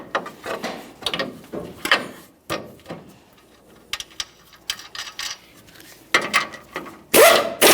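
A ratchet wrench snugs the tie rod end mounting nut on a 2015-2020 Ford F-150, sounding as quick bursts of mechanical clicking separated by pauses, with a loud clatter at the end.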